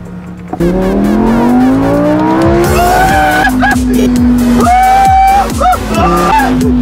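A Lamborghini sports car accelerates hard on a straight, its engine climbing loud and close through rapid gear shifts with rising, falling revs and some tire squeal.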